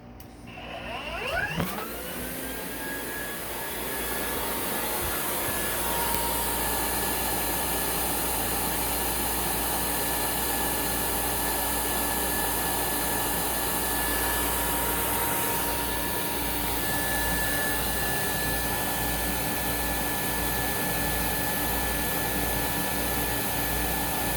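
A Rainbow E2 Black vacuum cleaner starts up and runs steadily with a loud, continuous motor whine and rushing airflow, close and alone for the whole stretch.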